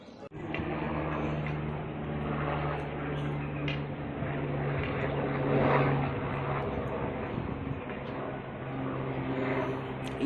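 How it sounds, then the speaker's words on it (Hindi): A helicopter flies toward Sanjhi Chhat at Vaishno Devi, its rotor and engine making a steady, loud drone with a low hum that swells slightly midway and holds throughout. "ये हेलीकॉप्टर जा रहा है माता के भवन सांझी छत पे।"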